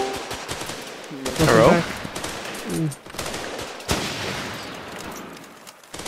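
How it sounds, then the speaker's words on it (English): Bursts of heavy fire from the Bear .50 cal machine gun in the video game Running With Rifles, loud reports scattered among game noise, with a brief spoken word and other voices mixed in. "Which gun? Bear 50 cal."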